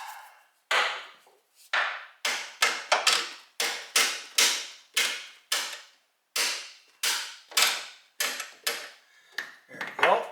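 Sharp hammer taps during a serpentine belt job on a 2003 Mitsubishi Galant 2.4L 16V, roughly twenty crisp close strikes in irregular bursts with brief ringing decays and silence between them.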